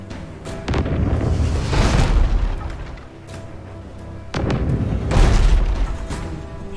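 Cannon fire in the pirate ship game Abandon Ship: two heavy booming blasts about three seconds apart, each a loud broadband burst with a rumbling tail, set over a constant low game ambience.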